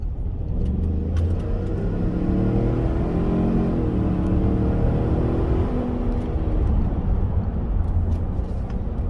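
A 2020 Ford Expedition Max Limited with a twin-turbo V6 accelerating from inside the cabin, a loud, steady low engine drone rising in pitch as it pulls, with road and wind noise beneath and no talking.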